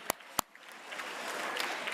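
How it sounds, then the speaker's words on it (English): At a benefit gala in a museum hall, two sharp nearby claps ring out before a broader burst of audience applause swells up and keeps going as a bright, even clatter to the end. "Give yourselves a big round of applause"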